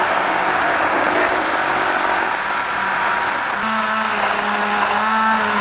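A blender loudly purees a spinach mixture for a vegan spinach cake, a dense close whirring motor that grinds on without a break, its pitch shifting slightly as the contents churn.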